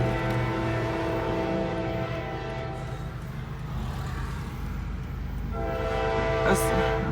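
A CSX coal train led by two engines passes at evening, its horn sounding in sustained tones over a continuous rumble of rail cars, loud and near throughout.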